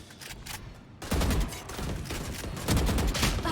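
Rapid bursts of gunfire in the tactical shooter Valorant during a competitive 5v5 esports match, a sharp loud volley starting after a brief quieter lead-in and continuing in dense clustered shots.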